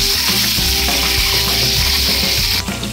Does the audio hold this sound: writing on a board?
no